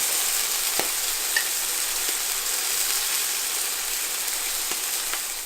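Scallops sear in a hot pan with a constant bright sizzle and spatter, close and steady, with a few faint clicks and no talking.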